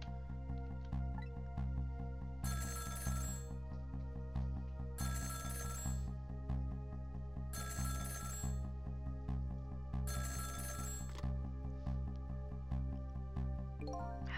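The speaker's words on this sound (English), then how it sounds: "About 2 hours before dawn, the phone rang." A telephone rings in the video game Ghost Trick: Phantom Detective, four bright electronic bursts at a steady pace over a sustained tonal music bed, with no talk.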